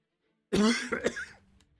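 One abrupt, close throat clearing with a short cough, loud and dry, lasting about a second in an otherwise quiet room.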